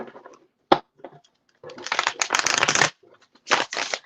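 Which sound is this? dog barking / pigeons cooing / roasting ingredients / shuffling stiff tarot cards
shuffling stiff tarot cards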